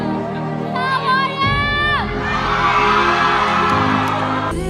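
A crowd shouts back the Star Warrior rallying cry together. A brief rising tone comes first, then a loud, sustained mass of voices yelling and cheering.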